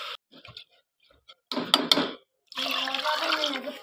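Soaked basmati rice and water poured into a cooking pot for a quick veg pulao, starting with a few soft splashes and drips, then a fuller, steady pour of liquid close by.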